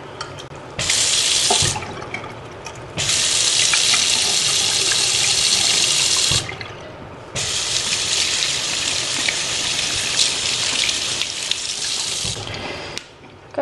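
Tap water runs into a sink as mascara is washed off hands with soap and hand gel, a loud, close gushing stream that pauses briefly twice as hands move under it, with no talk.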